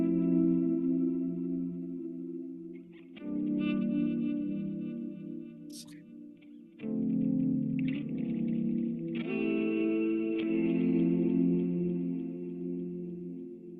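Atmospheric, warm-toned orchestral arrangement of Lili Boulanger's Psaume CXXIX, slow swelling sustained chords that shift in a few broad waves, heavily reverberant and layered, with no voices speaking.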